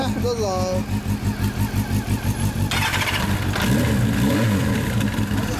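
An early-model Kawasaki Zephyr 750 motorcycle with a Yoshimura exhaust idles with a throaty pulse, then is revved in several sharp blips close up, while people talk briefly nearby.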